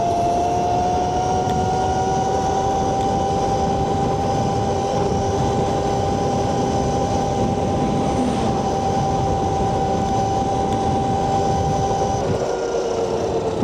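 Cunfon M200 electric dirt bike running flat out at top speed in mode 3, a steady high-pitched motor whine with strong wind rush over it, continuous and loud for the whole stretch, no talking.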